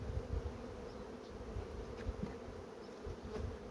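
Honey bees buzz steadily around an open hive during inspection of a small colony grown from two overwintered frames, a dense continuous drone close by with small swells in loudness and no talking.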